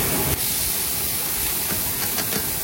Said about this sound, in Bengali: এবার এর মধ্যে দিয়ে দেবো বাঁধাকপিটা সেদ্ধ করে রেখেছি আগে থেকে